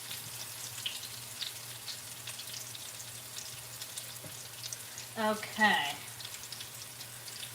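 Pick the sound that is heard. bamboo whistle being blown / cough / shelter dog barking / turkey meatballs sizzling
turkey meatballs sizzling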